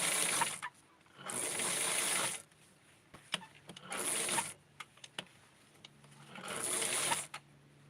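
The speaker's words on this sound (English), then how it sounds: "And I'm going to sew to keep it in place." A sewing machine stitching lightweight tulle and lace runs in four separate bursts of rapid, even whirring, with quiet pauses between them filled by small clicks and handling taps.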